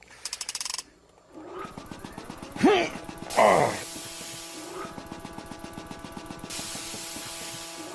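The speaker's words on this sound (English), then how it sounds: "I'm going to start the motor now. You'll feel the straps tighten, then relax. It's simply the gears engaging and disengaging to produce the rhythmic traction." A traction machine motor starting up as a radio drama sound effect, with mechanical clicks and gear-like ratcheting, two louder bursts of whirring, then a steady rhythmic clatter of gears engaging and disengaging.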